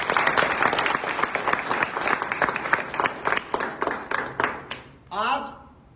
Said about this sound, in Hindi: इस गांव के लिए एक बार जोरदार तालियां दीजिए